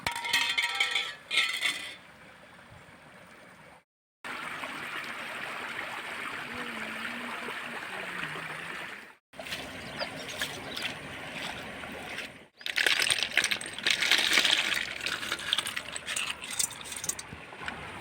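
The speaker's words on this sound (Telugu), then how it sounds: "దీన్ని ఇప్పుడు మనం వాటర్లో వేసుకుందాము." Snails dropped into a pot of water and boiled in a village kitchen, with clinking shell drops and a splash followed by steady bubbling and rattling that grows busier toward the end, and no talk.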